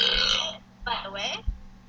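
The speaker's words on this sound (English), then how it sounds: "Stop burping!" Loud burps come close to the mic in two or three bursts, with a gamer's voice nearby while playing the online game Toontown Rewritten.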